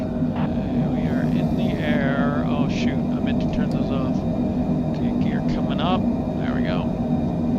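Aircraft engine roar from Microsoft Flight Simulator 2024 as a plane rolls down the runway and lifts off, a steady loud drone running throughout beneath someone talking.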